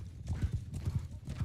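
Cavalry horses gallop in a medieval battle video game, a fast, dense drumming of hooves, loud and continuous, with faint voices in the background.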